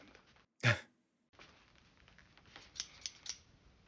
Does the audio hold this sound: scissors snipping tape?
yes